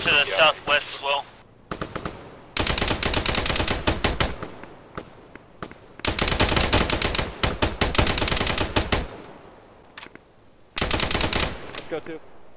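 Rifles in a military video game empty their magazines in long, dense bursts of rapid automatic fire, several sustained volleys close and loud with short pauses between, plus a few scattered single shots.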